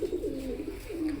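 A single pigeon coos in a brief, low warbling roll, close and clear over a soft background hum.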